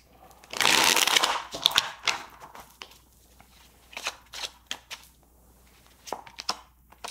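Tarot cards are shuffled up close, starting with a loud riffle burst and followed by several quicker, softer snapping shuffles spaced through the clip.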